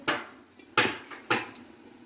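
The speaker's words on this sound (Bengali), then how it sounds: "দিয়ে এবার আমি একটা ঢাকনা ভালো করে ঢেকে দেব" A lid is set onto a cooking pot of spiced vegetables, giving a few sharp metallic clanks and knocks, close and fairly quiet, spaced unevenly with a short final tap.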